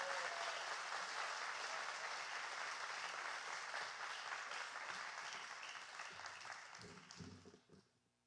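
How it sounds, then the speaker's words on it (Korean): A church congregation bursts into sustained, loud applause to welcome a missionary to the pulpit at a Friday worship service, with broadband clapping that holds steady for several seconds before fading out near the end. "우리가 보낼 수 있는 가장 큰 박수로 우리 모시겠습니다"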